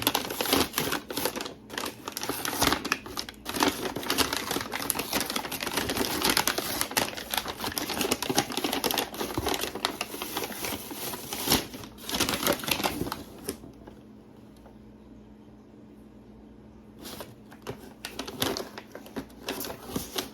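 A taped, nicely wrapped package is torn open: continuous close crinkling and ripping of paper with sharp tearing bursts, a quieter pause, then more rustling as the wrapping comes away.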